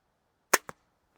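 A Steambow PD5 crossbow pistol fired once: a sharp, loud snap followed a moment later by a softer second crack, then silence. No voice is heard.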